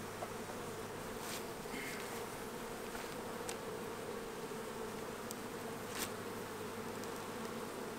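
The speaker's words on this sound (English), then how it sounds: "See all these bees right here?" A dense, steady buzz of robber bees swarms around a beehive, continuous and close, with occasional louder passes of individual bees flying near.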